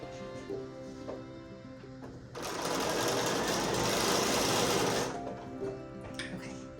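A sewing machine stitches a cornerstone onto a quilt sashing strip, running in one loud, steady whirring burst of about three seconds. Quieter handling noises come before and after.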